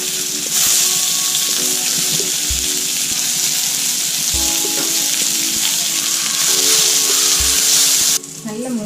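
Thinly sliced shallot rings sizzle steadily in hot ghee in a pan, a continuous bright frying hiss with faint stirring, no one talking over it.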